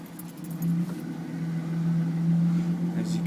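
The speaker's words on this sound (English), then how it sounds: "she's idling nice and smooth" A 2002 Ford Mustang V6 idles smoothly and evenly, a steady low hum holding a constant pitch at moderate volume for the whole stretch, with no revving.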